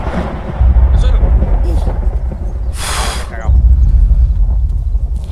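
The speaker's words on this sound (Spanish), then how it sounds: "La tormenta eléctrica, porque no hay ni una nube, ¿eh?" Thunder rumbling through a stormy night in the military shooter ArmA 3, a loud low roll with a sharp crack partway through, under wind noise and someone speaking.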